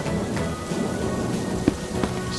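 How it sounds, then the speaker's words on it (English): Cartoon rain pours in a steady close hiss with soft thunder rumbling beneath and a couple of brief louder drips or splashes, no talking. "She and George run outside to play in the rain."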